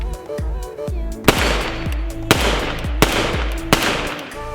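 An AKS-74U rifle fires 5.45 rounds in sharp, loud, separate shots, about four of them spaced roughly a second apart, each with a ringing tail, after some lower thumps at the start.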